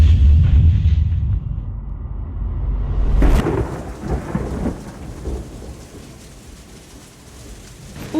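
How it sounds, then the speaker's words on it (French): Heavy rain pours steadily, with a deep rumble of thunder at the start and a sharp crack partway through. "Elle filme avec un parapluie sous la pluie"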